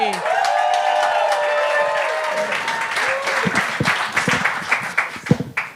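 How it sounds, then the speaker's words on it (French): An audience at a comedy show bursts into loud applause that swells, then thins into scattered claps as cheering fades, with a voice briefly heard over it. "Je vous demande d'applaudir fortement Chami!"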